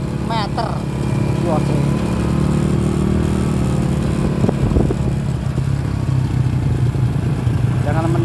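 Motorcycle ridden along a village road toward a grass-cutting site, its engine droning loud and steady with shifting revs and rattle, wind noise, and a voice speaking briefly over it.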